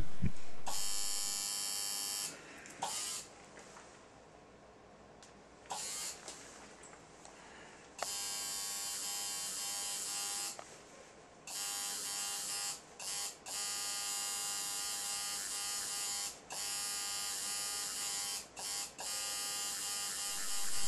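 Electric tattoo machine buzzing steadily while shading with colour ink, a close, loud, bright whine in long runs broken by short pauses.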